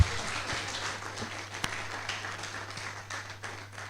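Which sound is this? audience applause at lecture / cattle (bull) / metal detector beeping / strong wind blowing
audience applause at lecture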